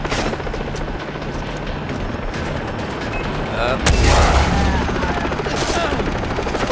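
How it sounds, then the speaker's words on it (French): In the Far Cry 3 video game, a helicopter whirs under sustained bursts of gunfire, with a loud explosive boom near the middle of the clip, dense and continuous throughout. "d'ailleurs c'est la première fois que je vois un hélico"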